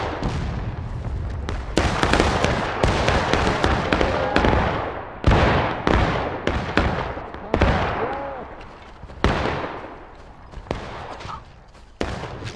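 Musket volleys and scattered rifle shots crackle and boom across a Civil War battlefield in the video game War of Rights, with repeated loud bursts and rolling echoes over twelve seconds.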